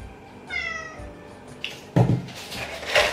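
A cat meows once with a clear, rising-falling tone, followed by rustling and handling noises close by.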